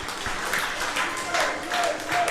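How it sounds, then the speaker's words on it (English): A crowd at a softball grand final gives a round of applause to a boys' under-15 team, moderate clapping in uneven swells heard at some distance, with a commentator talking over it. "As the crowd give them a round of applause."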